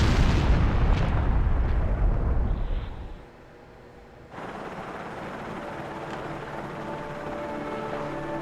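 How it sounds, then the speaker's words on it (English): A loud, deep explosion from Resident Evil Remastered roars for about three seconds, then cuts to near silence before low game ambience resumes. "The real juicy explosion sound effect."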